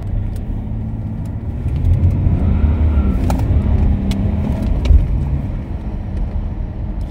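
A six-cylinder diesel car engine idles with a steady low rumble close by, holding a fairly even level with a slight swell in the middle and a few faint clicks, with no talk.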